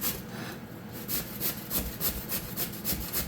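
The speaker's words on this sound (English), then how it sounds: "we're just going to grate these potatoes" Washed potatoes rubbed down the large side of a metal box grater for leek and potato soup, a steady run of rhythmic rasping strokes, close and fairly loud, with no talking.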